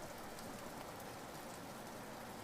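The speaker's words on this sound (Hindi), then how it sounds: "आज बारिश हुई।" Steady rain falls without a break, a dense, even hiss of drops spread across the whole sound, faint and constant, with no voices.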